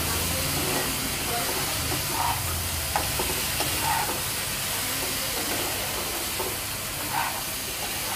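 Spiced bombil (Bombay duck) fish paste with chili powder and cumin is stirred in a hot pan, giving a steady close sizzle with scraping stir strokes throughout and no talking.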